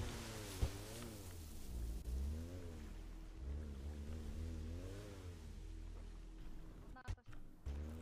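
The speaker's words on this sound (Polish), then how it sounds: "idź po motorówkę" A motorboat engine in the video game GTA V hums and revs steadily with rising and falling pitch, loud and continuous, while people talk over it; a brief sharp knock comes near the end.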